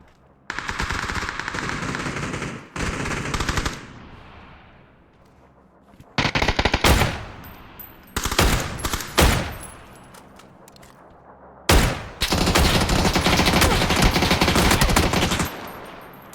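Loud automatic gunfire in PUBG on the Sanhok map comes in long sustained bursts broken by short gaps and a few single shots, close by and harsh, with a final extended burst.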